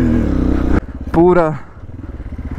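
An off-road motorcycle rattles and thumps over exposed pipes on a rough trail, its engine chugging in a rapid uneven pulse, briefly masked by a loud voice speaking over it partway through.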